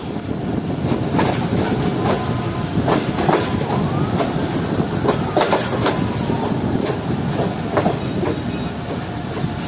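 The privatized Sir Syed Express passenger train, running between Pindi and Karachi, rolls along the rails with a loud, steady rumble, clickety-clack wheel beats and occasional thin squeals, heard close from on board.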